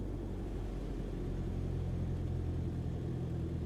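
Steady low aircraft engine drone at idle in Microsoft Flight Simulator during a landing approach, a constant even rumble with no change in pitch, heard alone.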